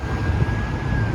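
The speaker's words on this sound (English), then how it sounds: "I hear more sirens coming from way up north." A distant ambulance siren on a city street walk along Danforth Avenue and Bloor Street in Toronto, a steady faint wailing tone over constant traffic rumble.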